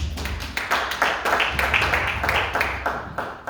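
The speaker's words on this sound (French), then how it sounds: "On acclame pour le Seigneur." A church congregation clapping and acclaiming the Lord, steady rhythmic handclaps repeating throughout, close and fairly loud, with voices mixed in.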